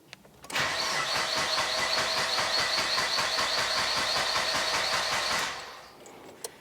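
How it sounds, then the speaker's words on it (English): A car engine with its fuel pump disconnected cranks steadily for about five seconds without catching, a loud, even rhythmic whirring that then cuts off into quiet. "So we're going to disconnect that and then start the car until it stalls."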